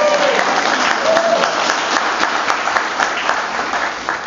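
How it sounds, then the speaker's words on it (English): An audience at a political gathering for Bernie Sanders delegates in Ontario, California breaks into loud, sustained applause, dense clapping throughout with a couple of brief whistles or cheers rising above it. "I'd like to hear a round of applause for these great."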